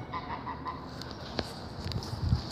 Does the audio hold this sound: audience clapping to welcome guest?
no